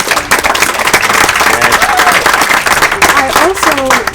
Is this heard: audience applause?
yes